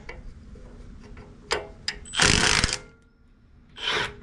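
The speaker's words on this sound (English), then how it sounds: "We're just gonna throw that wrench on there." A wrench is fitted onto a sway bar bolt during a Teraflex sway bar quick disconnect install, heard as close metallic clicks and taps followed by a couple of short ratcheting or grinding bursts.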